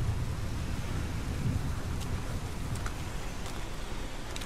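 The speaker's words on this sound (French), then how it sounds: "Il pleut des cordes." Heavy rain pours steadily and densely throughout, with distant thunder rumbling low beneath the downpour, in the video game Heavy Rain; no voices are heard.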